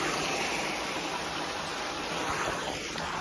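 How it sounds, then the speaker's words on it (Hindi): Fast-flowing water rushes past on a morning walk, a steady broadband roar heard close and continuous with no voices. "पानी बहुत स्पीड है भाई, बहुत स्पीड पानी है।"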